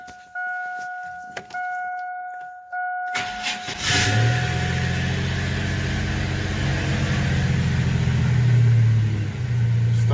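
A 1998 Chevrolet S10 ZR2 4x4 pickup, under repair for an EGR valve fault, cranks and fires up after a few electronic chimes, then settles into a loud, steady idle close to the mic with a slight rev.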